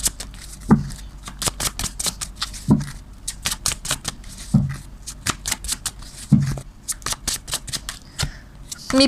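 Tarot cards are shuffled by hand in repeated quick riffling bursts, each ending in a soft tap, close and clear with no other sound.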